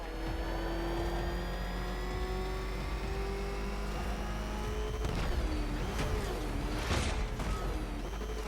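Batmobile engine from Batman: Arkham Knight revving steadily with a sustained harmonic drone, then a burst of crashing, whooshing impacts in the second half.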